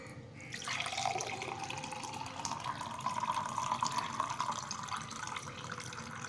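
Strained water splashes steadily into a drink mixture with a little salt added, a continuous close trickle and pour lasting several seconds with no talking.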